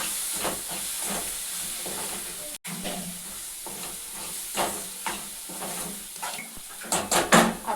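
Red chilli powder, salt and turmeric are stirred and sautéed in a hot pan with a steady sizzle and hiss. Scraping stir strokes repeat throughout, close and clear, and there is no talk.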